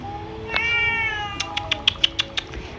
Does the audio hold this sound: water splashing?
no